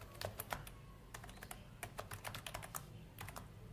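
Keys clack on a computer keyboard in quick, irregular bursts of typing, close and fairly soft, with short pauses between clusters of keystrokes and no talking.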